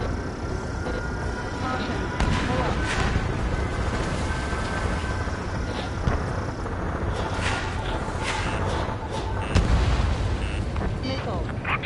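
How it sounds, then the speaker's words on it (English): Bombs released from an aircraft in the Ace Combat flight game burst in a rapid series of booming explosions, dense and continuous, with a heavier blast near the end. "Bombs away."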